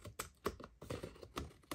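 Scissors or a paper trimmer slicing the edges off a stamped paper card-making project, a few crisp snipping and tapping sounds in quick, uneven succession, close and fairly quiet with no talking.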